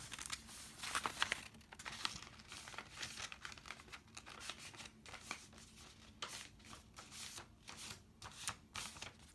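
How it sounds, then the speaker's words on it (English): Paper is folded and creased for a paper popper, giving close, faint crinkling and rustling that runs continuously with brief sharper crackles and scrapes throughout. "Make a nice little crease. Fold down."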